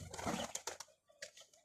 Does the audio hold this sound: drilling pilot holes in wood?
no